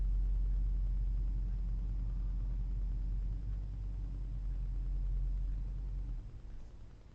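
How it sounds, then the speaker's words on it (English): A car pulls up outside a coin shop during a live auction stream, a steady low engine rumble heard from outside that holds for several seconds and then eases off as the vehicle settles near the end. "I just heard a car pull up."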